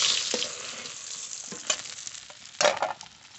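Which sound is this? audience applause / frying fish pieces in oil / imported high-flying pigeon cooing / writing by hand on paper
frying fish pieces in oil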